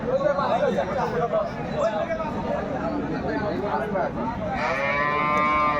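Cows and calves low at a busy cattle market at Aftabganj haat in Dinajpur. Drawn-out moos sound close over a constant hubbub of crowd chatter, and one cow calls clearly near the end.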